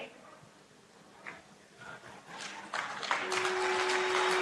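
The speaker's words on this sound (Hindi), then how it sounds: "साथियों, तालियों की गड़गड़ाहट रुकनी नहीं चाहिए" An audience at a semiconductor plant groundbreaking ceremony breaks into applause that starts faint and swells into loud, sustained clapping over the last couple of seconds.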